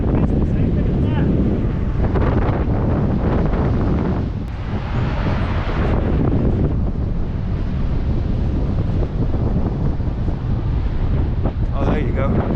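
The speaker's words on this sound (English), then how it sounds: "Windy, isn't it?" Strong wind buffets the microphone outdoors along Canada's Bruce Trail, producing a loud, continuous low roar with gusting surges, and voices are faintly audible beneath it.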